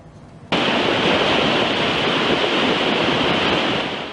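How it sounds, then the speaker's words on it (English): Floodwater rushes down a Burbank road turned into a river during a storm, a loud, steady roar of churning water that starts abruptly after a quieter half-second and continues unbroken. "A road turned into a raging river."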